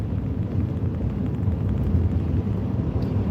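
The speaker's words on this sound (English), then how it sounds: "Got some pretty good wind gusts here in the flatlands." Strong wind gusts buffeting outdoors in open flat country in Ohio, a dense continuous low roar and rumble against the microphone, loud and unbroken throughout.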